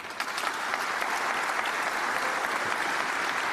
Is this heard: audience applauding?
yes